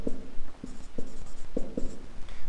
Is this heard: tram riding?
no